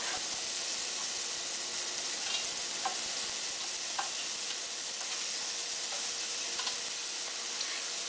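Satay skewers brushed with marinade sizzling on a grill: a continuous crackling hiss with small scattered pops and ticks, fairly faint and steady, with no voices.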